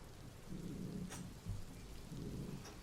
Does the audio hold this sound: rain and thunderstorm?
yes